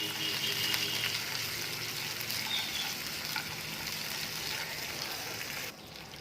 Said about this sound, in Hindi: हल्की आग पे इसे फ्राई करना है।